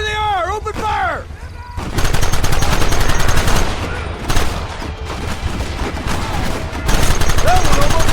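Gunfire in the video game Red Dead Redemption on PS3, a loud sustained barrage of rapid overlapping shots with brief lulls, preceded by a short shouted call and music-like tones.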